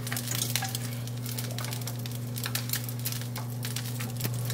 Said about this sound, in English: on top of that, we're going to add our chopped onion, our turnip, and the sliced carrot